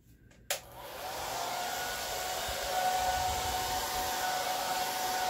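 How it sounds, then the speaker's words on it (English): A hair dryer on low with the cool button switches on after a brief silence and keeps blowing over poured paint as a steady, close whooshing hum with a faint whine. "I'm going to put my dryer on low while using the cool button"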